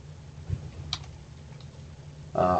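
A few sparse keystrokes on a computer keyboard, faint and quiet, ending in a louder burst of clicking near the end.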